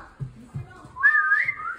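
A person whistles a clear rising and falling tone during a tense game of chase in a house, following a few low thumps or footsteps; the whistle is loud, close and lasts under a second.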